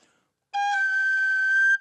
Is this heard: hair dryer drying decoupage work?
no